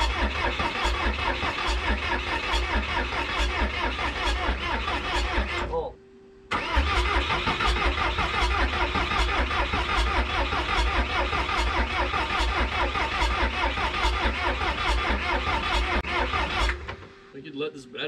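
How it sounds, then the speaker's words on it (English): The engine of a 1986 Lull 644 Highlander II telehandler, long left sitting, cranks over in a long, rhythmic, loud churning, stops briefly, then cranks again without catching. "Turn it over quick."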